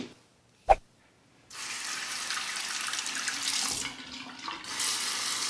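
Hot tap water runs over a Merkur 47C safety razor in a sink, a steady close splashing stream starting after a single sharp tap, then continuing with slight shifts in flow.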